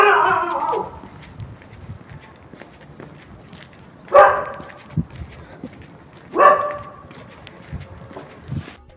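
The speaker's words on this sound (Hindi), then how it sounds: "इतने तेज़ तेज़ कुत्ते भौंकने लग जाते हैं" Dogs bark loudly on a quiet road, with one short burst at the start and then two sharp, close barking bursts a couple of seconds apart, between stretches of footsteps and faint background noise.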